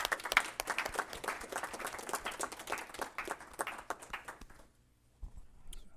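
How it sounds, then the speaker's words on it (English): A round of applause at a Los Angeles Board of Fire Commissioners meeting, crisp individual claps from a small group for about four and a half seconds, then fading to near silence. "Let's give them a round of applause."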